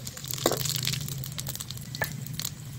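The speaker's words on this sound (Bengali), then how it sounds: "এবারে শুকনো লঙ্কা আর গোটা গরম মশলা তেজপাতা দিয়ে দিচ্ছি" Dried red chillies, whole garam masala, bay leaves and cumin seeds sizzle steadily in hot oil, a continuous close hiss with a few small crackles and pops.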